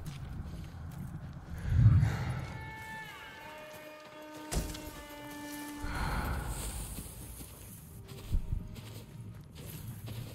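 Horse hooves clip-clopping in the video game Ghost of Tsushima, a few soft footfalls under game music with tonal notes and a small thump midway, moderately near, no speech.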